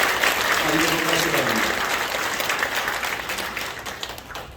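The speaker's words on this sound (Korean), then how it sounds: "여러분 큰 박수로 다시 한번 축복해 주시길 부탁드리겠습니다" Church congregation applauding six newly ordained deaconesses at a 45th-anniversary ordination service, a dense sustained wash of clapping that fades slightly toward the end, with a voice speaking briefly over it.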